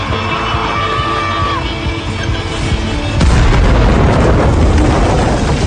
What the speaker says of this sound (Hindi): उसने चुपके से पास रखे विस्फोटक को उठाया, उसे जलाया और गुफा के मुहाने पर फेंक दिया।